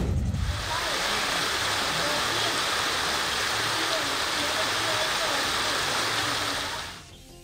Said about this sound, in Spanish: la enorme cantidad de agua potable derramada, producto de un tubo roto